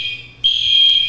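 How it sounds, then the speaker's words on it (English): A smoke alarm sounds a sustained high-pitched electronic tone that starts abruptly partway through and holds steady, loud and close, over a quiet room. "that's the smoke alarm"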